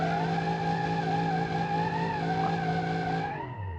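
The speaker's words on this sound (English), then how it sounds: "if you neutral drop it, it will do nice burnouts" Simulated 3.5-litre naturally aspirated V16 car in BeamNG.Drive: a steady, loud tire squeal over a smooth, droning engine note from a burnout, then dropping away abruptly at the end.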